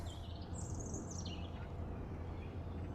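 Birds sing near a lake in Stanley Park, Blackpool: a thin high call sweeps and falls for about a second, faint and distant over a steady low rumble of ambient noise.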